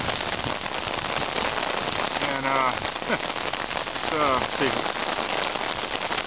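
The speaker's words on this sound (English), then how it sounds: "it's raining" Steady heavy rain falls at night on a flooded street in Houston, Texas, during a storm with the power out. A dense, even hiss runs throughout, with a couple of brief spoken words over it.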